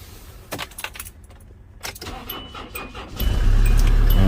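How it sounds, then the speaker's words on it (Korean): Keys jangle and click, then a car engine cranks and catches, started from a 26000mAh jump starter power bank, settling into a loud, steady idle close by. "그리고 이제 시동을 한번 걸어 볼게요."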